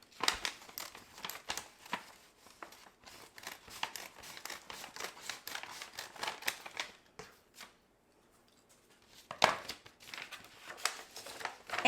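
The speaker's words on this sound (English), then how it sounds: "Now we're going to cut the other side. Just hold it and just trim off just a little bit." A paper grocery bag being trimmed with scissors up close: a steady run of quick crisp snips and crinkles, a short quiet pause, then another burst of cutting and paper rustle.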